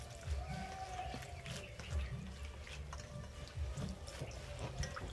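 Leafy greens, including lentil and bhete greens, washed under running water, with soft trickling, dripping and splashing close by at low volume.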